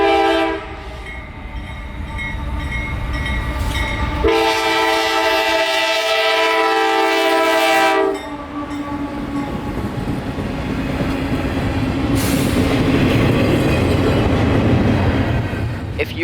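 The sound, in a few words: CSX freight train passing at night, horn sounding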